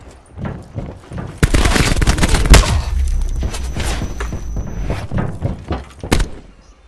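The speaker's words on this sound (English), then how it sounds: "I'm gonna see if this high explosive kills in one shot" Gunfire in Call of Duty Black Ops 4 multiplayer, a high explosive weapon firing loud sharp bursts in quick succession amid other shots and impacts, with heavy thumps and a ringing tone during the fight.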